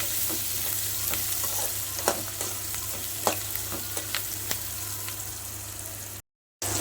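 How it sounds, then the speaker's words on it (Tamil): Garlic and onions sauté in a pan for a fish curry, with a steady loud sizzle and repeated spoon scrapes and taps as they are stirred, ending in a brief dropout of silence. "இதுலேயே போட்டு நல்லா வதக்கிக்கணும்"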